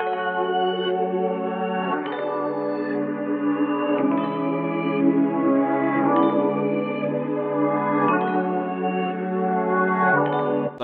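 A pitched-down, EQ'd melodic sample plays in an R&B beat made in FL Studio, a sustained mellow harmonic loop with soft chord changes about every two seconds, alone without drums or talk.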